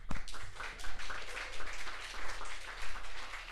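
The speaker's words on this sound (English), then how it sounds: "a round of applause for everyone" Applause from a group at a game jam's final presentations, a dense wash of clapping over a low steady hum, rising and falling slightly.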